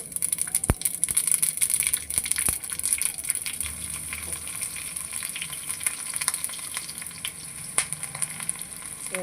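Mustard seeds, cumin and a few chilies fry in a little oil for an upma base, giving a steady close sizzle with sharp crackles and pops scattered throughout.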